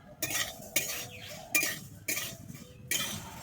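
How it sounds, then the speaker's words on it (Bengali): Mung dal frying in a pan while being stirred, heard as about five sharp, close scraping strokes of a spoon against the pan in an uneven rhythm. "আমি প্রথমে ডালটাকে ভেজে নেব"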